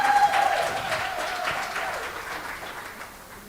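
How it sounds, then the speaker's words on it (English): An audience claps together in a sustained round of applause that gradually fades out over a few seconds. "May we please give him a round of applause."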